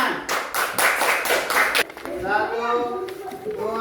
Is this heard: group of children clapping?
yes